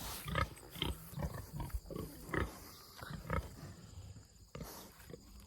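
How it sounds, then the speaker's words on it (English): Pigs on a farm grunt and snort up close in quick, uneven bursts, a rough chorus of several animals rooting around with short pauses between their calls. "I'll show you the pigs"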